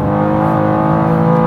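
A 2023 BMW M2 engine roars loudly and steadily close by on the Nordschleife, its rising tone suggesting hard acceleration, with no voices.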